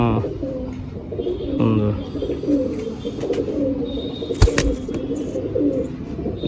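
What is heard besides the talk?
Kamagar pigeon of Pakistani bloodline cooing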